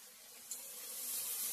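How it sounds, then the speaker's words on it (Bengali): Okra frying in a pan, seasoned with salt and turmeric, gives a faint, steady hiss that swells slowly, with one brief sharper burst early on. "ঢেঁড়স ভাজাটা বসিয়ে দিয়েছি"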